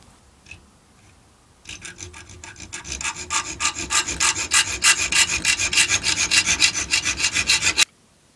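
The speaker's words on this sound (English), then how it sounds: "So I'll cut them to the same length using a junior hacksaw." A junior hacksaw cuts headless nails to length for a replacement pin on a Denix Colt replica, giving close, rhythmic rasping strokes that speed up and grow louder for about six seconds before stopping.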